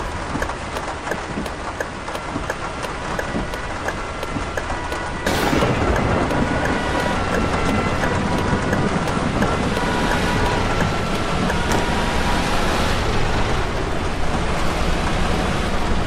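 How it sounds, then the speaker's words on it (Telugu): Heavy rain pours with a dense, loud, continuous hiss in a driving video game played on a steering-wheel setup. Low rumbles like thunder run underneath, and the roar thickens partway through. "గేమ్లో వర్షం గట్టిగా పడుతుంది అన్న."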